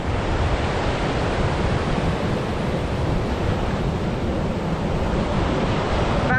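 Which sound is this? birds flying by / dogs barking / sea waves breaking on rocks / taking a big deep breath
sea waves breaking on rocks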